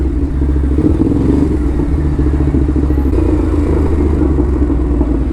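A Ducati Hypermotard SP fitted with an SC Project exhaust rumbles loudly and steadily while being ridden on a New York highway, its deep throbbing exhaust note holding fairly even with no talking.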